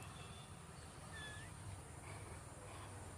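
A small female cat sitting in a garden gives one soft, brief meow. It sounds quiet against a faint background hiss.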